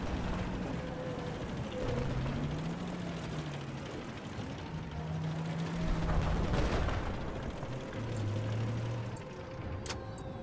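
Video game combat with a tank nearby: a dense, continuous rumble of gunfire and engine noise mixed with tonal game sounds, with a sharper burst swelling in the middle.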